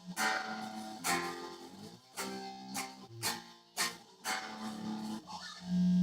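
An electric guitar plays a choppy riff of sharp strummed hits and short palm-muted chugs, with a rhythmic stop-start pattern and no voices.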